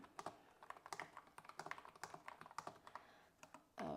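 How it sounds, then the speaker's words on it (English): Rapid keystrokes on a computer keyboard during a typing test, an uneven run of close, crisp clicks that stops briefly before a louder burst of noise at the end. "we could do a little typing test here"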